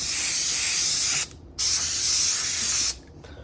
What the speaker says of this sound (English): Okay, got it sprayed down.